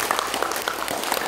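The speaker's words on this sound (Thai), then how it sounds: "ปรบมือให้พี่แม็กดังๆหน่อย" Children clapping together to welcome a guest reader, a dense patter of small hands filling the room at close range.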